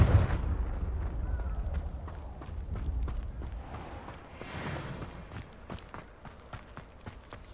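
Fiery Confringo spell blasts in Hogwarts Legacy, heavy booming impacts with a rumbling low end and a run of sharp cracks and thuds that fade into scattered hits.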